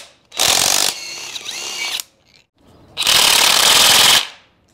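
A cordless electric impact wrench hammers at engine mounts on an abandoned 1993 Cummins in two long bursts of rapid ratcheting, loud and close, with a brief quieter stretch between them.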